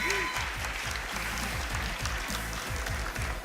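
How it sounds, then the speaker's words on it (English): A tournament crowd at a global finals bursts into sustained applause and cheering, a dense, loud wash of clapping filling the hall with a faint low rhythmic pulse beneath and no clear voice on top. "Game 2, the crowd erupting."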